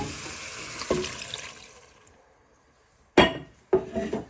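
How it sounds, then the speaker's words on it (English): Stock and tomato puree splash into a pan for pork paprika, first in a sloshing pour that fades out, then after a pause two sharp clattering splashes nearby. "So you're now going to add in your stock and tomato puree."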